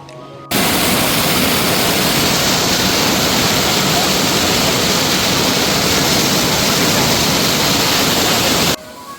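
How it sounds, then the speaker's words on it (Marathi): A loud, steady roar of Soundada waterfall pouring without pause, dense and close, filling the whole stretch. "हा पहा अजूनही एक धबधबा दिसतो"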